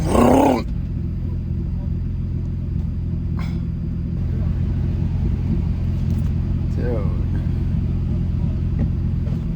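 A turbocharged M50-engined BMW E30 with many faults accelerating and shifting through first, second and third gears. The engine roars steadily and loudly from start to finish, with a brief burst near the start and someone talking over it.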